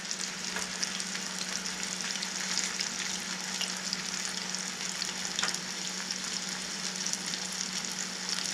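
Flounder fillet fries in a pan with a steady, dense sizzle and crackle that holds evenly throughout, close up and without talk.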